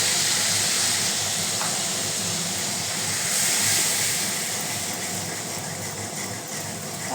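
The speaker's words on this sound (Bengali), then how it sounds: "এখন ভালো করে কষাবো।" Onion, garlic and ginger paste with coriander, cumin, chili, turmeric and salt sizzling in hot oil in a pan for golda prawn fry, a steady loud hiss throughout with no talk.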